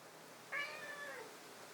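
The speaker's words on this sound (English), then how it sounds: "And that's my cat." A house cat gives a single short, faint meow, heard alone over a quiet room background.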